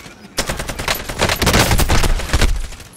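AK rifle fire in a video game, a long run of rapid, loud, close shots in ragged bursts, with no voice over it.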